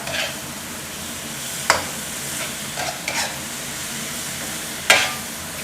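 Squid stir-fried with chili paste, spring onion and basil hisses steadily and loudly in a hot pan, with a few sharp spatula scrapes breaking through.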